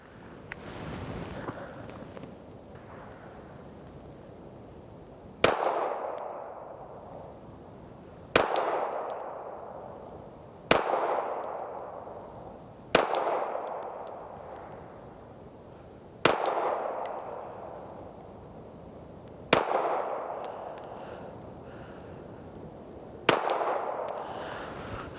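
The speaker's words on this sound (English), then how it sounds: "Now we'll do our distance shots with our 380." A .380 pistol fired at distance against steel targets outdoors in snowy conditions, seven sharp shots spaced a few seconds apart, each followed by a bright ringing clang that decays quickly, with quiet gaps between.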